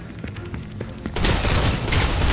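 Gunfire in Fortnite begins with a few scattered pops, then breaks into a loud, continuous rattle of rapid shots for the last second or so, with no voices.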